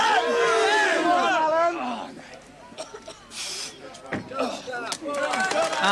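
A local crowd at a 1983 World's Strongest Man event yells and cheers a strongman on, excited shouting voices filling the scene, then breaking into scattered applause and noise.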